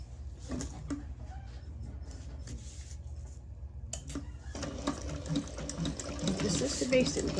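A sewing machine stitches along to baste fabric pieces for a carry-all bag, a close, busy mechanical whirr that stops briefly midway and then resumes.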